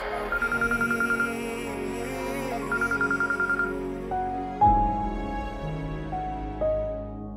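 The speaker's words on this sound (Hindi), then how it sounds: "मुस्कान, तुम किधर हो यार, फोन क्यों नहीं उठा रही हो मेरा?" A phone ringtone plays in repeated melodic bursts, rising tones pulsing twice, then a few sustained electronic notes, with no voices and no one picking up.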